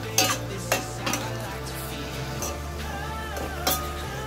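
Tomatoes being stirred in a cooking pan, a utensil clinking and scraping against the pan in a few sharp strokes over a soft steady background, with no talking.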